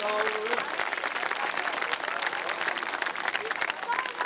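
An outdoor crowd at a River Festival claps warmly and steadily for several seconds, a dense spread of hands with a few faint voices mixed in.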